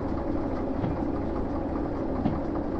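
Steady locomotive engine drone hauling 800 tons of freight in Derail Valley, continuous low rumble with faint rail clatter, alone and unbroken throughout.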